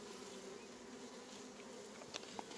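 Bees buzz steadily around a roof, a close, continuous insect drone with a couple of brief sharper ticks near the end, fairly quiet overall.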